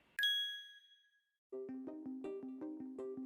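A Mac notification ding, a single bright chime struck once near the start and ringing out for about a second, followed after a brief silence by a rhythmic run of tonal electronic sound.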